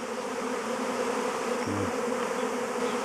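A swarm of honeybees enters a new hive at an apiary, a dense continuous buzzing drone of many bees close by, with one louder bee passing briefly.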